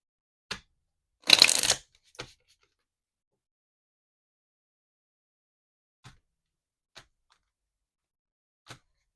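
Yes-or-no oracle cards being shuffled during a reading: one dense riffling burst near the start, framed by a few soft taps and clicks, then near silence with sparse faint knocks.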